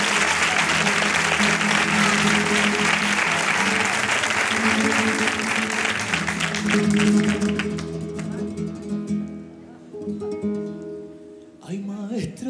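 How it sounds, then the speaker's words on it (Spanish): An audience applauds flamenco performers Álvaro Díaz and Ana Rocío before cantiñas, loud continuous clapping that thins out and fades after about eight seconds, leaving scattered claps and low background sound with some voices. "Un aplauso para ellos."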